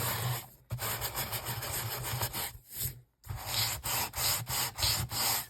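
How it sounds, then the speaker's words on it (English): Rhythmic sandpaper rubbing, close and steady, in repeated strokes with a couple of brief pauses. "dull it down by sanding it."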